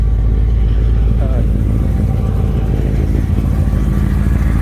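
A 1956 Chevrolet engine with a mild competition street cam rumbles loudly and steadily nearby with a deep, lumpy throb, a voice speaking briefly over it.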